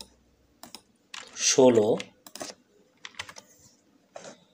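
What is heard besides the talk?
typing on a computer keyboard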